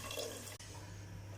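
Tamarind water poured into a pan of simmering vatha kuzhambu, a soft continuous liquid splash with a brief break midway, steady and close, without any talk.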